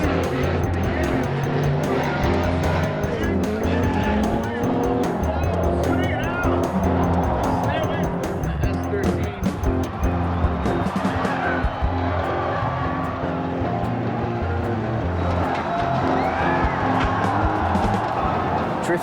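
A drifting car howls continuously with engine roar and sustained tire squeal, loud and near, while voices and crowd noise blend underneath.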